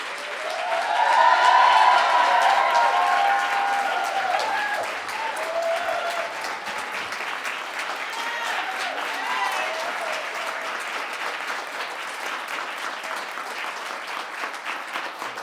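A large audience at an event honoring an exonerated Central Park Five member gives sustained, loud applause that peaks early and then holds steady with scattered cheers.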